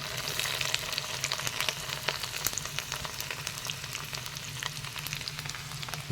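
Garlic and ginger fry in hot oil, a steady crackling sizzle with sharp pops scattered throughout, close by and without talk.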